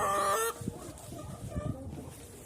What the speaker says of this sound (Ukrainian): ось кури їдять